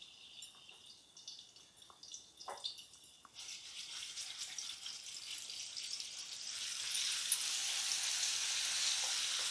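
Garlic and coriander paste sizzling in hot oil in a kadhai, a steady hiss that swells louder and brighter partway through and holds, with no talking.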